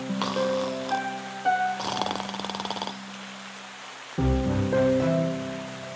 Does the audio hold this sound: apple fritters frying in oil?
no